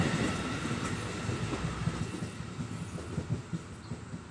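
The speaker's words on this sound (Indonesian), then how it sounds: "kereta lewat." A train rolls past close by, a loud continuous rumble with rhythmic clattering of wheels on rails and the ground shaking, with no voices over it.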